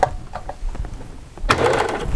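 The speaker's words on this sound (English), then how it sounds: "let the machine pull the fabric on through" A serger sewing machine fitted with a binding foot runs steadily as it pulls fabric through, starting abruptly partway in after a stretch of quieter handling noises, close and fairly loud.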